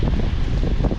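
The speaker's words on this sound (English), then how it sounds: "The day is a little windy and cloudy." Steady wind roaring across the microphone on a cloudy day by the sandbars of Captiva, a dense low rumble with no pauses and no voices.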